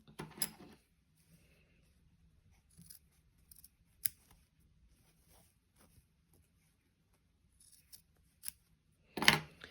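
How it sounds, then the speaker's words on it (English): Sharp fabric scissors trimming the corners of a sewn top, several separate crisp snips spaced across a quiet room, with a louder cluster of cuts at the end. "It's got 3 corners I want to trim off."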